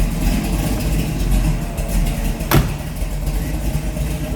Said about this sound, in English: Listen to the rumble out of that. V8 breathing underneath the hood